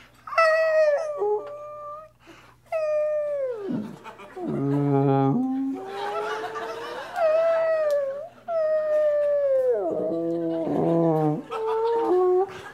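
A comedian performing live vocally imitates whale noises, making long, wavering, moaning calls that slide up and down in pitch, repeated in several drawn-out bursts with short pauses between them.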